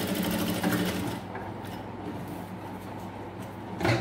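A Jack F5 industrial sewing machine runs steadily at close range, its motor humming through a continuous stitching burst for a few seconds before a brief louder surge at the end.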